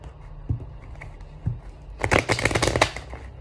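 Playing cards are handled with a couple of soft taps, then riffle-shuffled in a quick, crisp burst of fluttering snaps, close and loud, with no speech.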